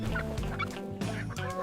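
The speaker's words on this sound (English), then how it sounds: "Turkeys are strong birds that can make loud gobbling sounds." Turkeys gobble loudly on a farm, a few overlapping rapid warbling calls close by that fill the whole stretch with no talk.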